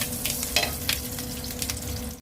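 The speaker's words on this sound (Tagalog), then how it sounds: "magisa na tayo ng bawang" Garlic sautéing in a pan while cooking chicken adobo, giving a steady close sizzle with crackling bursts and a few stirring scrapes throughout.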